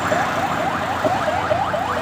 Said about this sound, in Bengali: এই যে দেখেন এখানে একটা অ্যাম্বুলেন্স আসতেছে